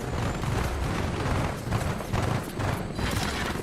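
Dense, rapid gunfire in a video game, a rumbling stream of repeated shots and booms, loud and nearly continuous with rhythmic bursts throughout.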